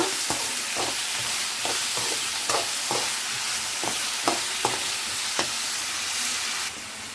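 Onions frying in a pan for onion chutney, a constant loud sizzle with regular sharp taps and scrapes of a spoon stirring through it, nearby and without speech.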